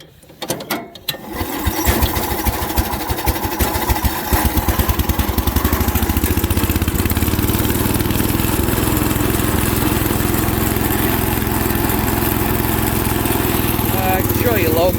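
A 1970s International Cub Cadet 127 riding lawn tractor engine starts after a few cranking sputters, then runs steadily with a loud, even, rapid putter that holds close and constant to the end.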